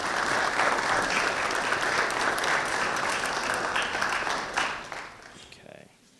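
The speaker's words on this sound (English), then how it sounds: "warm round of applause for our panelists" An audience at a youth summit panel applauds the panelists with sustained, full clapping that holds steady, then thins out and fades away near the end.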